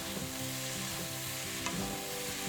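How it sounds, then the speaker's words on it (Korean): Carrots and vegetables stir-fried with a prepared sauce in a pan for sundae bokkeum give a loud, even sizzle with soft stirring scrapes and no talking. "만들어 놓은 소스도 넣고 같이 잘 섞어주시면서 볶아주세요."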